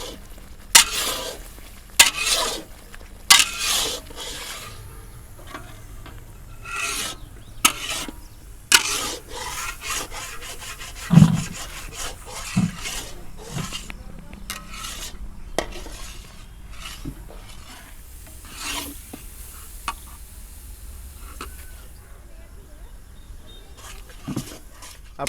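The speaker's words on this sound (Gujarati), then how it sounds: "હવે થોડું સ્પીડથી હલાવતા રહીશું આ રીતે" A spatula stirs and scrapes thickened milk in a pan while making thabadi peda, with quick, repeated scraping strokes, occasional sharper clinks against the pan and a faint sizzle underneath.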